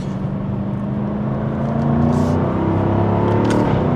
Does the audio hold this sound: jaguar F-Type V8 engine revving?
yes